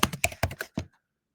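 Keys on a computer keyboard are struck in a quick run of about six close, crisp clacks, then stop and leave silence.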